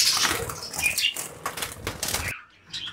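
Pet budgerigars flap their wings in a flurry inside a cage as they are being caught, with rapid bursts of wingbeats close to the microphone and a short pause near the end before more fluttering.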